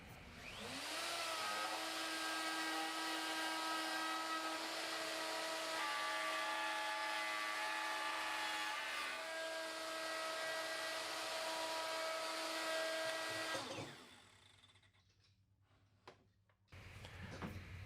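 A jig-guided power tool cuts a slot into a wooden bed part, running loud and steady with a constant motor whine for about fourteen seconds before spinning down, followed by brief quiet handling noises.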